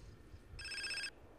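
Phone ringing in GTA San Andreas: a single short electronic ring tone burst, bright and steady for about half a second, heard alone over faint game background.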